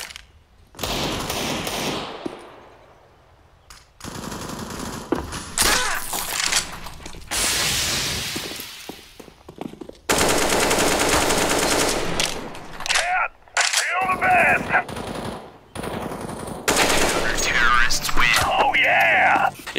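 Automatic and rapid gunfire in the video game CS:GO, bursts of shots broken by pauses and mechanical weapon sounds, loud and close.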